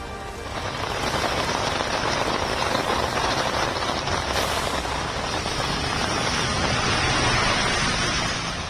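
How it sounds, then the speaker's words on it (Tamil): Heavy rain falling at night in Mumbai, Maharashtra: a loud, dense, steady hiss of downpour that continues unbroken throughout, with no voices. "மகாராஷ்டிரா மாநிலம் மும்பையில் இரவு நேரத்தில் தொடர்ந்து பெய்த மழை."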